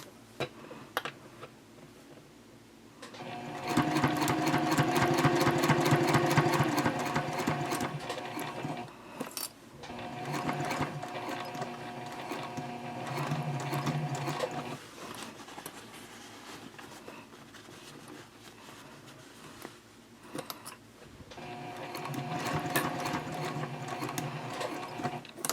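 A sewing machine stitches a fabric messenger bag in several rapid mechanical bursts, each running a few seconds and separated by short pauses, close and clear with no talking.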